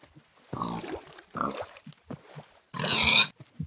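Three loud, close oinks from a pig in the video game Minecraft come in separate bursts, with the last one longest and most intense.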